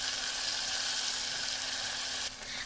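Garlic cloves hiss and sizzle in a pan, a steady close frying noise broken by faint stirring scrapes, with no talking.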